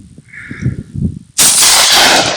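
A hunting shot rings out sharply and strikes a rock, the loud broadband blast arriving suddenly after a stretch of quiet outdoor murmuring and sustaining as a dense roar to the end.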